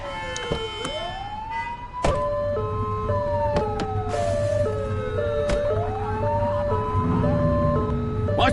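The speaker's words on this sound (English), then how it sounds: "Turn that siren off." A wailing police car siren in the video game The Precinct sweeps up and down over a steady engine rumble, with a few sharp thumps and honks mixed in, close and loud.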